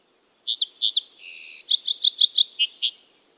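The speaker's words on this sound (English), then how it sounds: "That's a song sparrow." A song sparrow sings one clear song, a few sharp opening notes, a buzzy trill, then a quick run of chirps, heard close and alone against quiet.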